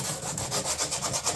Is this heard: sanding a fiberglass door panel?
yes